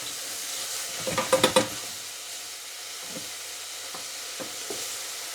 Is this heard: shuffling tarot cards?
no